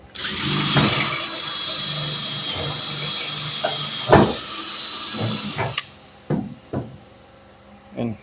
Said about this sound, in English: assuming our drill chuck will actually stay tightened